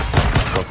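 Pistol gunfire in the video game Warzone 2.0, heard as a few quick, loud shots in a dense, noisy game mix during a short burst.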